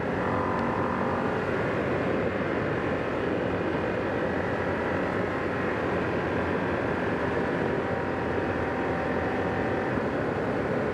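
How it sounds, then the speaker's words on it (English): Ducati Streetfighter V2s engine heard on the move while riding, a smooth continuous drone blended with wind rush, steady and fairly loud throughout. "The engine is really nice and smooth."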